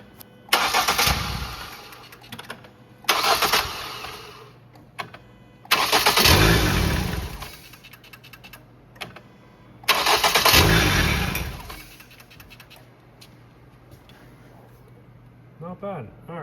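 A 2010 Ford Focus engine cranking in four separate bursts, each a loud whirring grind lasting one to two seconds, with quiet gaps between and a low idle hum underneath.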